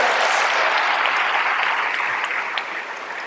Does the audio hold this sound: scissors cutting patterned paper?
no